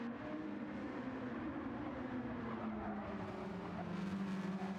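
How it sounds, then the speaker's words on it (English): Small Cosworth race car engines in a racing video game at the Nürburgring GP circuit, a steady low droning hum with a faint rising whine, fairly quiet and continuous throughout. "I would say let's have a listen to the engines, but unfortunately they're not very loud. These little Cosworth engines."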